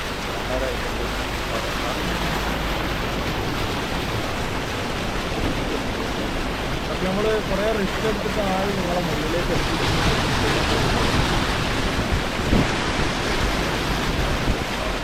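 Floodwater after heavy rain in Dubai, with vehicles pushing through the flooded road, gives a steady broadband wash and churn that fills the whole stretch while someone talks continuously over it.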